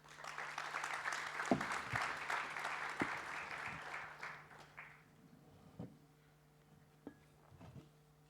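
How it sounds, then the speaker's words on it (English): Conference audience at a policy session on energy grids applauds panelists, a moderate burst of clapping that gradually thins out to scattered claps in a large room. "So please an applause for them."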